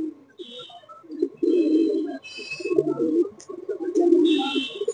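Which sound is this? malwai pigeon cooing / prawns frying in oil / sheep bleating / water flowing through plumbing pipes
malwai pigeon cooing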